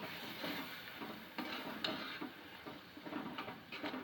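Soft scraping and light clinks of a spatula stirring vegetables with salt in a pan, with a faint sizzle beneath, close and quiet.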